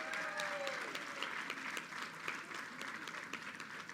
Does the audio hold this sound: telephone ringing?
no